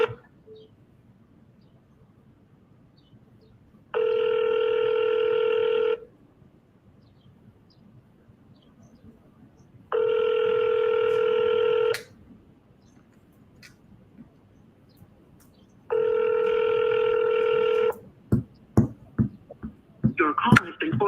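A telephone ringback on an outbound call, three evenly spaced two-second ring tones separated by long silences, then clicks and a brief tone as the line picks up to an automated voicemail system.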